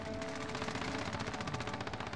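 Rapid automatic gunfire from a video game match on Rebirth Island, a continuous fast stream of close, evenly spaced shots running for about two seconds.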